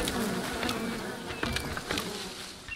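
Bees buzz close by in the Len's Island video game, a busy insect drone with several flybys swelling and fading over a few seconds, with no speech.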